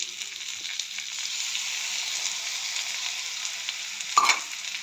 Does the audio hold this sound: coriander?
yes